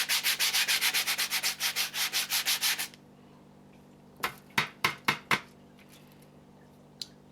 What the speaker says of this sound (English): take this plate and just take a sanding block to it